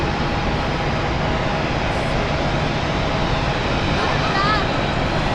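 A Swiss Airbus A320 being pushed back at Zurich Airport fills the air with a loud, steady jet-engine roar and broadband rumble, continuous throughout, with faint speech-like sounds mixed in.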